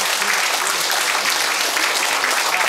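An audience at a Korean ceremony for a commemorative society's new chairman, applauding steadily with dense, sustained clapping, no pause throughout and no talk over it.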